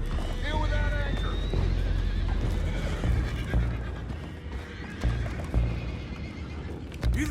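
Horses neigh and whinny in the Red Dead Redemption 2 video game, their calls ringing early on amid hoof clip-clops, rumbling action and characters talking.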